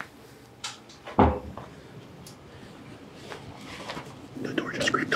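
A door pops open with one sharp clunk, near and brief, amid hushed whispered voices and faint shuffling.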